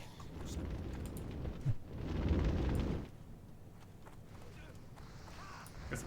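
A grenade detonates in World of Warcraft as a burst of rumbling blast noise, swelling for about a second, set against a steady layer of game ambience and combat sounds.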